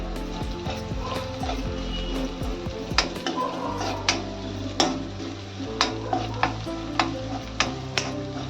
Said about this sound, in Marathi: लाल तिखट टाकते, नुसती मिरची पावडर आहे